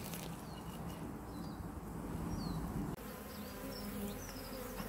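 Honey bees buzz steadily at the front of beehives during a hive inspection, a dense continuous hum of many insects close by, with faint bird calls in the background.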